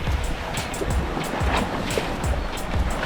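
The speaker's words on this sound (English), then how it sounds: "It's another beautiful beach." Surf washes and breaks continuously on a wild beach on Barangonan Island, Palawan, with rolling, moderately loud waves and no voices.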